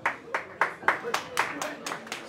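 An audience at a talk event claps in a steady rhythm, roughly nine distinct claps at even spacing, moderately close with a faint voice underneath.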